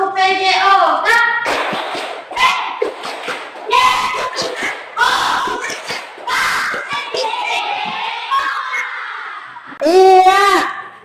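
Children in a PJOK class perform the Tepuk PJOK rhythmic clapping game, bursts of hand claps alternating with chanted voices, loud and close in a classroom.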